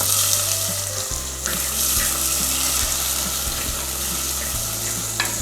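Onions go into hot oil in a clay pot for sambar and sizzle steadily and loudly up close, with occasional stirring scrapes, and no voices.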